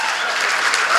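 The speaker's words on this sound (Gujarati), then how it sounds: "એમને પણ જોરદાર તાળીઓથી વધાવો" A comedy show audience gives loud applause to welcome a guest onto the stage, a dense, continuous roar of clapping that swells slightly at the end.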